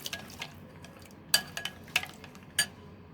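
Paneer tikka marinade with mustard oil being stirred in a bowl, soft wet squishing broken by a few distinct bright clinks of a spoon against the bowl, close and quiet with no talk.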